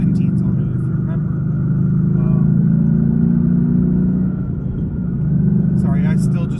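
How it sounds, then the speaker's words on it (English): A car with a full manual gearbox pulls hard through the gears, a loud steady engine drone rising and settling as shifts come, heard from inside the cabin with a brief voice near the end. "I still just enjoy rowing through the gears now that I've got a full gearbox and everything"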